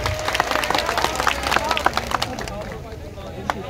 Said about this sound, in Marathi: टाळ्या वाजून जोरदार या ठिकाणी ताईंचं स्वागत करूया.